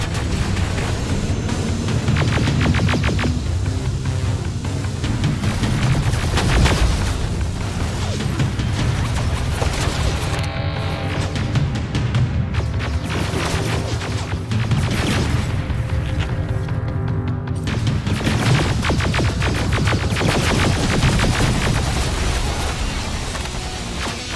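Continuous heavy gunfire and booming impacts in the shooter Terminator Resistance, a dense, loud wall of shots and crashes that barely lets up, with brief thinner moments partway through.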